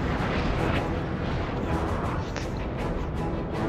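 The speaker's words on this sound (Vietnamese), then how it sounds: "Bộ binh của nó vào tầm bắn của pháo binh rồi" Artillery fire and explosions in the video game Napoleon: Total War, a dense continuous rumble of cannon booms layered over one another with no clear gaps, loud and steady throughout.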